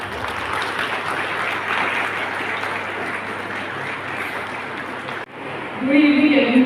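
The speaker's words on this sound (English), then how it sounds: "Big round of applause, please." Steady crowd applause fills most of the clip, then cuts to a quieter room with a faint tone and murmuring.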